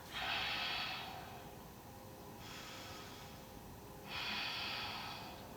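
Slow, deep yoga breaths during a snowboarders' session: three long airy inhales and exhales, close and clear, with quiet gaps between and no talking.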